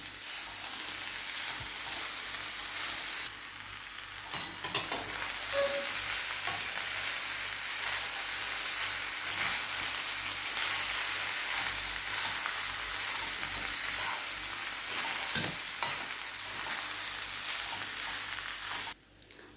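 Schezwan fried rice stirred in a pan with a spoon, steady scraping and soft sizzling running continuously throughout, close and fairly loud with a few sharper clinks, no talking.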